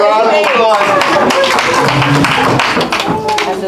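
Applause from an audience at an evening poetry reading, a dense continuous patter of many hands clapping close and steady throughout, easing slightly near the end.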